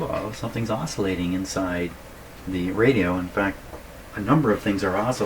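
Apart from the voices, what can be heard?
No everyday noise stands out behind the speech.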